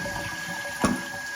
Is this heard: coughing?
no